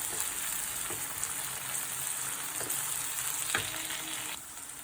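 Ginger-garlic paste fries in oil for chicken varuval, giving a steady, moderately loud sizzle up close, broken by a few sharp spoon taps and scrapes against the pan.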